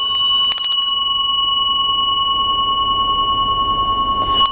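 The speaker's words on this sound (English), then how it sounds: "And when you're moving the bell, you don't move your wrist." A hand bell rung during a dakini dance gives a quick cluster of bright rings, then one long sustained tone that slowly fades, clear and near, with no talk.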